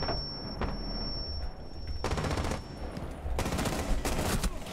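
Rapid bursts of PDW submachine gun fire in Rainbow Six Siege, loud and close, with several sustained volleys separated by brief pauses and a steady background tone running underneath.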